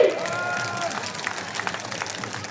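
Audience at a political party workers' meeting breaking into applause, a dense wash of clapping from a crowd, fairly loud and continuous, with a voice briefly audible over a PA at the start.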